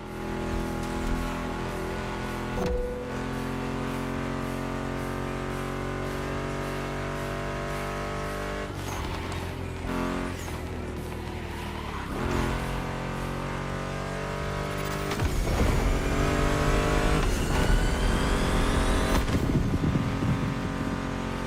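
A Mustang GT muscle car engine in a racing video game roars and revs through repeated gear shifts, pitch climbing and dropping, getting louder and harsher toward the end, with no talking.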